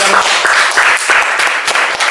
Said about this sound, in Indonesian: Tepuk tangan dong buat kita.